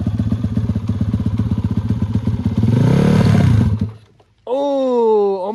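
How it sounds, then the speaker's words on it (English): A Honda ATC 70 three-wheeler engine chugs and revs loudly as the clutch is let out, building to a strained roar before cutting off abruptly, then a voice follows. "slowly let the clutch out and give it some gas."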